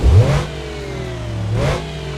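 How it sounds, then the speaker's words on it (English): A custom V6 engine in a Ford Crown Victoria mod revs in a driving game, two rising revs a second apart, loud and close with no talk. "I think that's a custom engine noise, and I really like the sound of it."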